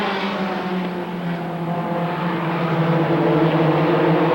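Race cars racing at Rockford Speedway roar in a loud, continuous engine drone with steady tonal whine that swells slightly toward the end, with no voices over it.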